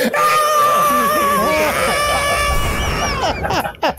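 A man screams loudly and at length during a podcast recording, a strained, wavering cry held for several seconds up close, with brief background chatter near the end.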